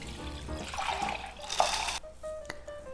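Water runs from a kitchen tap while multigrain rice is washed in a bowl, a steady, close rush for about two seconds that then drops to sparse trickles and drips.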